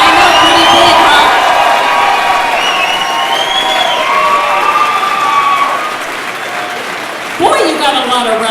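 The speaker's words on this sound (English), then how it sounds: "Big cheering section." A large audience at an awards ceremony cheers and applauds for the 2014 Man of the Year, loud and sustained clapping under whoops and shouts, dipping slightly toward the end as a voice cuts through.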